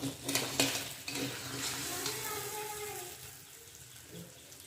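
Crab cooks down with potatoes and spices in a pan. Quiet stirring scrapes and soft clinks run over a faint sizzle, with a few tonal squeaks from utensil on metal, and the sound fades toward the end.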